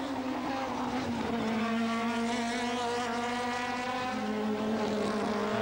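Formula Pacific race cars at the 1987 New Zealand Grand Prix scream past in a tight pack, loud sustained engine whine with rising and falling harmonics filling the whole stretch, no voices over it.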